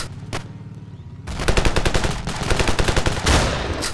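Rapid bursts of video game shotgun gunfire, loud and close, firing in quick succession after a brief quieter lead-in with one isolated shot.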